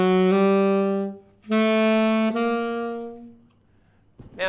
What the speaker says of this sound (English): I'm going to play a chromatic approach below each of the chord tones of the major triad